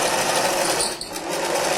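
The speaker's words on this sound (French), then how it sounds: "on place le tissu sous le pied presseur, on baisse l'aiguille et on pique au point droit tout autour" A sewing machine runs steadily, stitching a straight stitch through fabric for a Christmas stocking, with a loud continuous mechanical whir and a brief dip midway.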